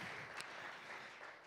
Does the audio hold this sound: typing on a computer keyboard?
no